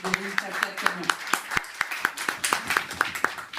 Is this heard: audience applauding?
yes